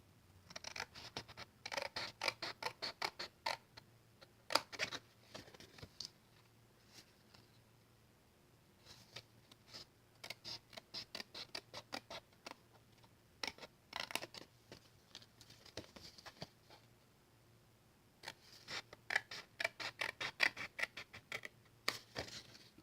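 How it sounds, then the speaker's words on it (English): Scissors cutting paper rectangles for a Halloween stamping craft project, quiet close snipping in clustered bursts of rapid clicks separated by short pauses, with no talk. "then you're going to cut away these two rectangles down at the bottom"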